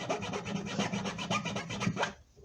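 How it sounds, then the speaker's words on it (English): A hand file rasps back and forth against the wooden body of an acoustic guitar in quick, steady scraping strokes, close up, stopping abruptly at the end. "All I'm doing is filing the wood back over a little bit."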